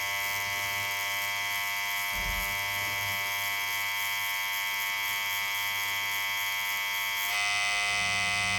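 Tattoo machine running continuously while filling in a small tattoo, a steady, close electric buzz that holds level throughout, with a slight shift in tone near the end.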